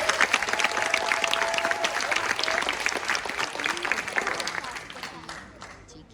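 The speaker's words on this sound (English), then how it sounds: "let's give a round of applause to each and every one of you one more time for being here today" Sustained audience applause fills an indoor hall at a literary arts festival in Saigon, steady and dense before fading toward the end, with a faint voice or tone drifting over the clapping.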